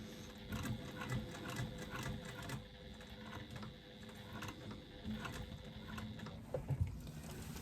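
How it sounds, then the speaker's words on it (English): A sewing machine with a size 14 needle stitches through ordinary fabric while a zipper pocket is built, giving a steady close mechanical chatter with rhythmic needle clicks throughout. "I have a size 14 needle in my machine now, because I don't need the big thick one, big heavy one, because I'm only going through fabric"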